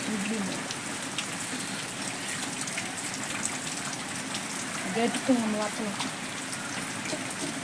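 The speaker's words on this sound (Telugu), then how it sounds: "ఈరోజు అయితే మాకు ఫుల్ వర్షం చూడండి దంచేస్తుంది" Heavy rain pours down during a cyclone storm in a village, a steady dense hiss throughout with a brief voice surfacing partway through.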